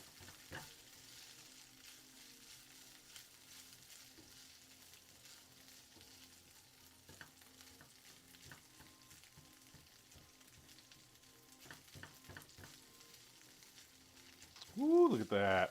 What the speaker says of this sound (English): you guys can hear the sizzle of the pan instead